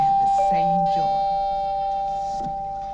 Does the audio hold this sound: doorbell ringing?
yes